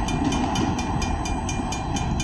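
A short freight train pulls out of Brooks Yard heading northbound, giving a steady rolling rumble with rhythmic clicking wheel beats over the rails, loud and close throughout.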